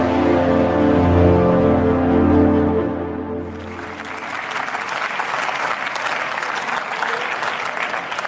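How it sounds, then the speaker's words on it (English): Clapping from the audience at an author and creator awards summit comes in around the midpoint as music fades, then continues as steady, dense applause to the end. "celebrate this wonderful journey with a big round of applause"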